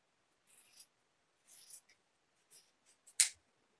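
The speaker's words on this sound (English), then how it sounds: "I will cut this out." Scissors snipping through fabric for a sleeveless maternity gown, heard as a few short, separate bursts of crisp cutting with quiet pauses between, the last cut the loudest and closest.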